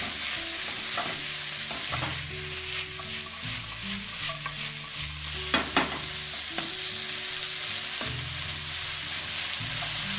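Sri Lankan kotu, seasoned with salt and black pepper, is stirred in a hot pan, giving a steady frying sizzle broken by repeated scraping and clanking strokes of the utensil, close and fairly loud, with no talking.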